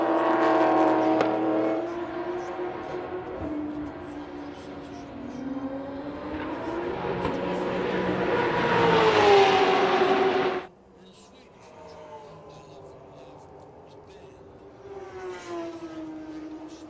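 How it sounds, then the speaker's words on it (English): An onboard V8 GT race car engine at Sydney Motorsport Park roars and revs up through the gears, climbing in pitch, then drops sharply to a lower drone as it lifts off. "Absolutely no doubting a V8 on board"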